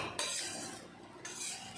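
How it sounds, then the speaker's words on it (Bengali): Fried rice with vegetables being stirred in a pan, with metal spoon scrapes and clinks against the pan at close range and a faint background sizzle, no talk. "ভাত এখন সবজির সাথে ভালো করে নেড়েচেড়ে মিলিয়ে নিতে হবে, নিচে লেগে না যায় সেই জন্য আমার বারে বারে ভাতগুলো নাড়তে হবে"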